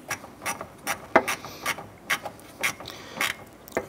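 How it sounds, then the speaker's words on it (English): A hand ratchet snugs down the lower radiator hose clamp on a 1993-1997 Ford Ranger, giving a series of sharp, close clicking bursts in an uneven rhythm, about a dozen quick ratcheting strokes with no talking. "Go ahead and snug down that hose clamp."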